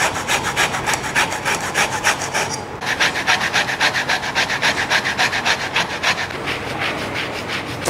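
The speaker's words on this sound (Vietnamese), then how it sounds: "Vỏ cam vàng mình sẽ bào theo cái sở thích của mình." Orange zest being grated for almond cookies, a steady rhythmic rasping of strokes repeated throughout, close and fairly loud, with a brief pause near the middle.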